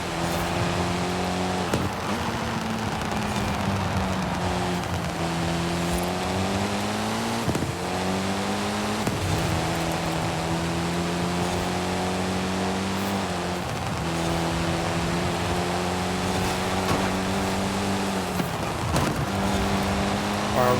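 Mitsubishi Lancer Evo racing in Forza Horizon 5, a steady engine drone that climbs and drops through repeated gear shifts, with crackly exhaust texture and tire noise underneath, no one talking.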